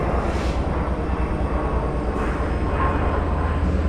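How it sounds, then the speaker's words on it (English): A jet takes off from Gabreski Airport beside a Long Island Rail Road station at Westhampton, heard as a steady, broad low roar with a faint rising whoosh, continuous throughout. "And there goes a jet takeoff from Gabreski Airport."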